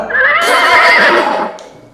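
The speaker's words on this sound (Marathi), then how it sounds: "अरे घोडा आहे घोडा" A single loud horse whinny rings out close by, a shrill, quavering neigh lasting nearly two seconds before trailing off.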